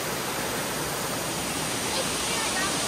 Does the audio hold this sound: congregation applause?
no